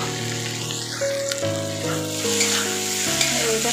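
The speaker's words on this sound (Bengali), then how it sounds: "এঁচোড় আলু সেদ্ধ করে রেখেছিলাম ওটাকে দিয়ে আর একটু কষিয়ে নেব" Boiled jackfruit and potatoes sizzle and fry in spice paste in a pan, a steady close hiss with stirring scrapes, held through the whole stretch with no talking.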